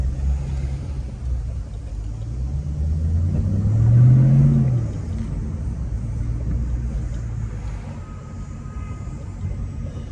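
A lowered 2006 Ford Mustang GT sits idling with a deep, steady exhaust rumble, then revs once and swells louder for a moment before settling back to idle.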